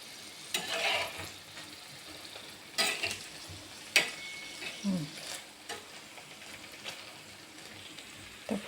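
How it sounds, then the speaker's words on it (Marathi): Paneer and biryani ingredients fry in a pan, a soft background crackle broken by several sharp scraping stirs and clinks spaced a second or so apart, fairly quiet with no talking. "तर फ्राय होऊ देते मस्त"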